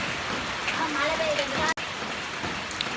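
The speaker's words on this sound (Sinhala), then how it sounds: "උදේ ඉඳන් මේ විදිහට එක දිගට වහිනවා." Steady rain falls continuously during a wet day in Batticaloa, a dense hiss that holds through the whole stretch with a brief dropout near the middle, and a voice speaking faintly underneath.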